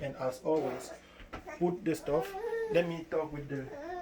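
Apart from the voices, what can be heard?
No distinct noise like a dog, phone or traffic.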